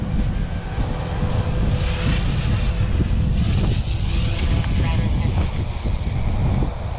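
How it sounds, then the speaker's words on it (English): Strong wind buffets the microphone in a steady, roaring rush that fills the whole clip, with no speech, outdoors at a small RC helicopter flying site. "Again, it is very windy."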